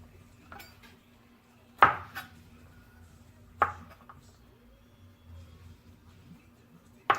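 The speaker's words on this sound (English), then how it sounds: "I'm cutting them in half, well, maybe in quarters." A knife cuts food on a cutting board for a chicken bruschetta bake, giving a few sharp, isolated chops spaced a couple of seconds apart in an otherwise quiet kitchen.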